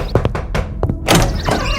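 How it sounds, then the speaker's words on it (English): Loud knocking on a door, several hard thumping blows in an uneven rhythm, close and forceful, followed by a burst of louder noise. "Who had knocked on Emma's door with such a bang?"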